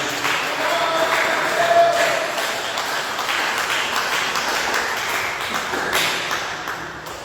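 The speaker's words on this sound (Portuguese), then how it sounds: "dê uma salva de palmas bem alegre para Jesus" Congregation at a church service giving a joyful round of applause for Jesus, dense steady clapping from many hands filling the room for several seconds, with no voices over it.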